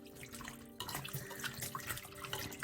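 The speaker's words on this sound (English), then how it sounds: "So you wash it and then you rinse it off properly." Running water from a tap splashes steadily, growing louder after a short moment as fish is rinsed under the stream.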